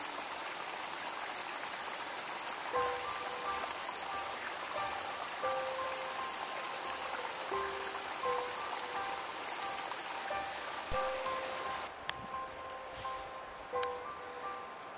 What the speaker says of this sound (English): So there's a little stream there.